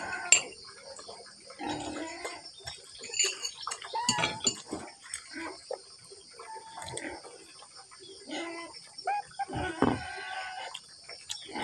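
A pig on a farm grunting and squealing in short, irregular bursts nearby, with metallic clinks of dishes and pans scattered through the scene.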